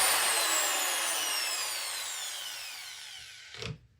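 Power tool motor running with the trigger pressed while its shaft stays still, a loud high whine that winds down in pitch over a few seconds and ends in a brief low clunk.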